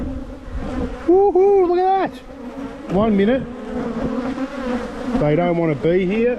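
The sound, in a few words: honey bees buzzing at opened hive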